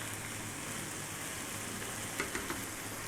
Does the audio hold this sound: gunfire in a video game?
no